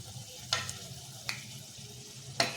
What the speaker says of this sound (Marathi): अगदी गॅस अगदी स्लो ठेवूनच ह्या करंजे आपण तळून घ्यायच्या आहेत